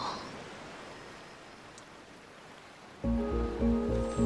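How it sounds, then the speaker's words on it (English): Water flowing in The Unfinished Swan, a soft, even rushing wash heard alone at first, before game music comes in over it near the end. "Let the water flow."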